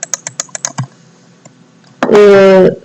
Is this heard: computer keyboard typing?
yes